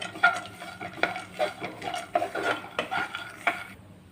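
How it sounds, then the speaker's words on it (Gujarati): Pistachio slivers roasting and being stirred in a pan, giving a run of close, irregular scraping and clinking strokes from a spoon against the metal, with a faint sizzle underneath. "આપણે ત્રણ મોટી ચમચી જેટલી પિસ્તાની કતરણ એડ કરીશું અને તેને પણ આપણે સારો એવો રોસ્ટ કરી લઈશું"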